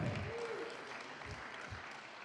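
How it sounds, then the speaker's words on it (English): A gathered crowd claps for a young woman turning 21, a fairly soft, continuous patter of hands heard from a distance with a faint tone underneath and no talking. "Give her a round of applause"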